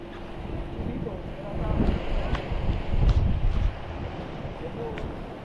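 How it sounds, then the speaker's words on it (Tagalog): Strong wind buffets the microphone in a steady roar, swelling louder in gusts partway through, with water sounds faintly underneath. "Lakas na rin yung hangin."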